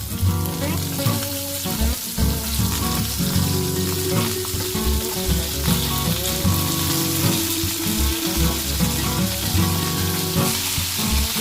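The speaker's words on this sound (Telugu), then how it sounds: "ఇప్పుడు దీనిలో మనం బీరకాయ తొక్కలు వేసుకోవాలి." Ridge gourd peels sizzle and fry steadily in hot oil with dried red chillies, a dense continuous crackle with occasional stirring clatter, close and fairly loud.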